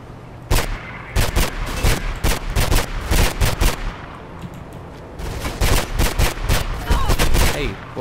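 Rapid bursts of gunfire in the video game Mirror's Edge, loud and close, with repeated volleys broken by short pauses and a continuous stretch of shots toward the end.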